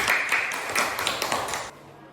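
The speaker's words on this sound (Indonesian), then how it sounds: "Beri tepuk tangan anak-anak" Schoolchildren in a Quran-reading lesson clap together in a quick, fairly even rhythm for under two seconds, then stop abruptly, leaving a quiet room.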